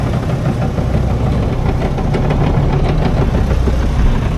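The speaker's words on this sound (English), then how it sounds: "We're still motor sailing because obviously low winds" A sailboat's inboard engine runs steadily while motor sailing in light winds on a calm sea, a continuous low mechanical drone with vibration and wind and water noise mixed in, close and fairly loud throughout.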